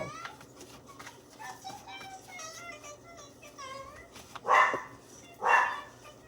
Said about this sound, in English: Is he barking